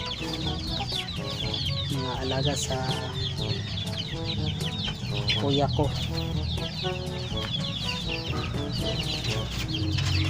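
Chickens cluck and chatter steadily throughout around their coops in a rural Philippine yard, close by and fairly loud, with a person briefly speaking over the birds.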